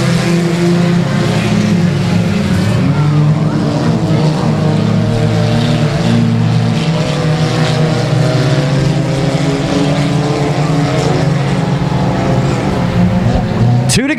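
Four-cylinder race cars roar around a small speedway oval at night, their engines a dense, continuous, loud drone that rises and falls as the pack circles, with a sharp burst right at the end.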